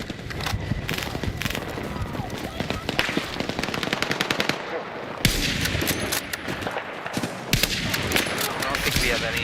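Automatic machine gun fire in a shooter video game, loud and nearly continuous in rapid bursts with brief gaps, broken by a few heavier bangs.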